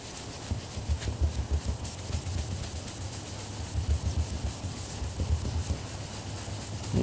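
Sandpaper rubs in quick back-and-forth strokes, color sanding the clear coat on a 1969 Camaro: a steady, close scratchy hiss with a soft repeating rhythm and no talking.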